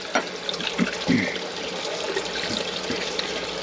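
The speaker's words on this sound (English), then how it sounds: "So I'll cool it down real quick with some cold water." Cold tap water from a rainwater catchment system runs over a hot air fryer part, a steady close splashing stream filling a sink without a break.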